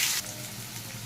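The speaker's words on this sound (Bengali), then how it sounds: "দিয়ে দিচ্ছি গোটা জিরে, কেটে রাখা আলু," Cumin seeds and cut potatoes fry in hot oil with a soft, steady sizzle and hiss, a brief louder burst at the start settling into a quieter continuous crackle.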